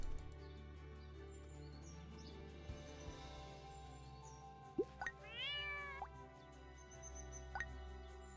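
A cat meows twice in the farming video game Big Farm Story, short rising calls over soft steady background game music, with a faint plop and chirp nearby.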